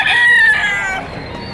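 Roosters crow loudly and close by at a chicken market in Padre Garcia, Batangas, one long drawn-out call that fades toward the end, with no talk over it.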